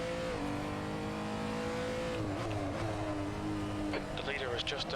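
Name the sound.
race car engine in a racing simulator video game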